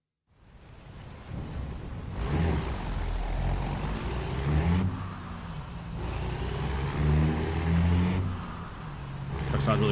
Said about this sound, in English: Truck sounds really good. Thanks. It's a Caterpillar engine.